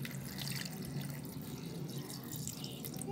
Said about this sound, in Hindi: अब हम इसमें ऐड करेंगे एक गिलास एक से दो गिलास दूध